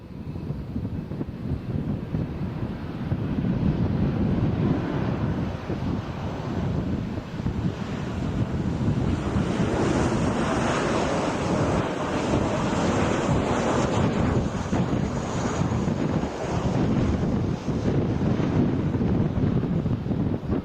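Strong wind buffets an observation deck at Kansai International Airport, a loud continuous roar gusting throughout with no speech.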